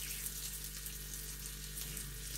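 Sliced sausage sizzles on an electric grill in a home kitchen, a steady, even crackle of frying that runs throughout without pause and with no talking.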